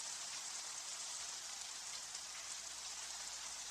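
Steady, dense rain pours without a break as a radio-drama sound effect, a continuous wash of hiss that fills the whole stretch with no voices over it.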